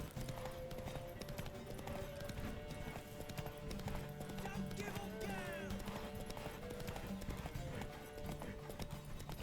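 Horse hooves clip-clop steadily in the Witcher 3 video game, a continuous rhythmic trot over a busy game soundscape with an occasional whinny.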